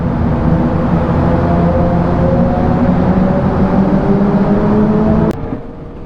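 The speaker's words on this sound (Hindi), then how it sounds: "क्या बाइक्स की आवाज है पूरी टर्नल में" Motorbikes ride through a tunnel, a loud, steady engine roar and whir echoing off the walls for several seconds before cutting down abruptly near the end.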